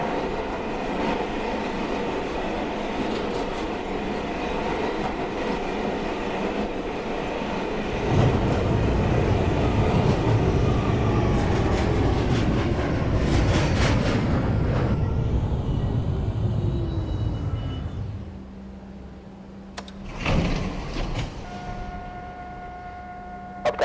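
A New York subway 1 train runs through the tunnel, a loud continuous rumble and rattle that swells, then slows with rising wheel squeal before braking and hissing to a stop, followed by a quieter tone.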